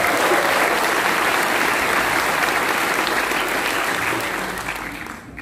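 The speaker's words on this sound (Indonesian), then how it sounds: "Tepuk tangan untuk seluruh taruna PP Makassar." Applause from a large crowd at a cadet inauguration night for PIP Makassar, loud and dense from the start, holding steady before tapering off toward the end.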